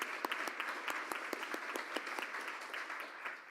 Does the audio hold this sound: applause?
yes